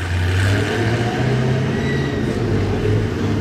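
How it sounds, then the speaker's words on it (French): A V8 engine rumbles steadily with a deep, throaty idle and slight swells in revs, loud and close, with no voices. "Ah, ce V8 là, comme il respire."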